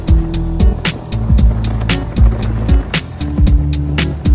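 Loud motorized tricycle ride in Boracay heading to the Jetty Port, engine droning and shifting pitch with repeated bumps and clatters along the road.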